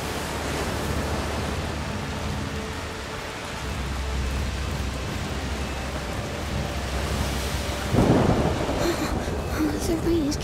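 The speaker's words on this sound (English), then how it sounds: "The rain is getting worse." Steady rain and rumbling thunderstorm noise in the video game A Plague Tale: Requiem fill the whole stretch as a dense, constant wash, with a brief voice entering toward the end.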